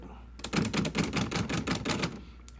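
Rapid, rhythmic key strikes clack on an old typewriter found at a flea market, a close burst of about a dozen sharp hits in quick succession.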